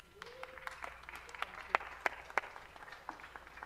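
Council colleagues at a Los Angeles City Council meeting give a brief, sparse round of applause, with a few sharp individual claps standing out over a quiet room and faint murmured voices.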